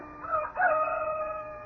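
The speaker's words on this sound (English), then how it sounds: "beckoned by a rooster somewhere" A rooster crows once from a distance in a radio drama scene, a drawn-out raucous call that breaks briefly and then carries on, alone with no talk.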